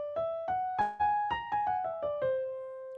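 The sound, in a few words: piano playing whole-tone scale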